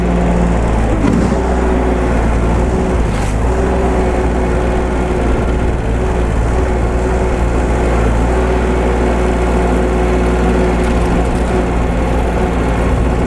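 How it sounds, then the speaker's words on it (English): A Solis 24hp 4WD tractor engine runs loud and close with a continuous low rumble and droning hum, rising slightly as it revs and holding steady throughout. "Rev up those RPMs a little bit."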